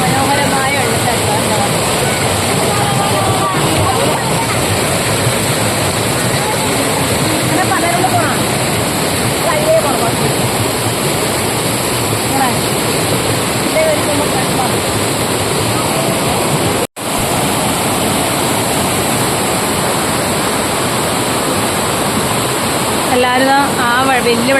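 A forest waterfall roars in a loud, dense, unbroken wash of rushing water that stays constant and close for the whole stretch, with only one brief dropout.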